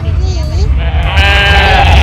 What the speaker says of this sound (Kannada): ಹಾ ಕುರಿ ಮರಿ